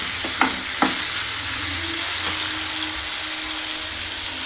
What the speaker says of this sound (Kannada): ಇದು ಸ್ವಲ್ಪ ಜಸ್ಟ್ ಹಸಿ ಸ್ಮೆಲ್ ಹೋಗೋವರೆಗೂ ಅಷ್ಟೇ ಫ್ರೈ ಮಾಡ್ಕೊತೀನಿ.